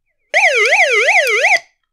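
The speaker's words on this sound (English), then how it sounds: "And siren will alarm, so it's pretty loud." SOS siren alarm of a Kaito V5 Voyager Mini AM/FM/NOAA weather emergency radio: a loud, close electronic wail rising and falling in quick regular sweeps for about a second and a half, then cutting off.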